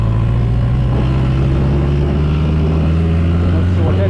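A BMW K100 cafe racer motorcycle running steadily, its loud engine drone sustained and close throughout, with an underlying rattle from the bike.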